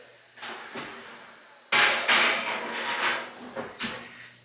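A baking tray of canelés slides into a hot home oven and the door shuts, a series of close metallic clunks and knocks with one loud bang in the middle, then lighter rattles.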